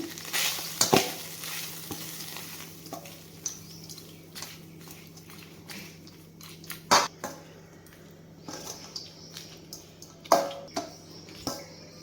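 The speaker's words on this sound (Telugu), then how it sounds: "పోపంతా రైస్లో వేసుకొని రైస్ ముక్కల్ని బాగా కలుపుకోవాలి" Cooked rice is stirred together with a fried tempering for lemon rice, a quiet close scraping and clinking of a spoon against the pot, with several louder metallic knocks spread through a soft background hum.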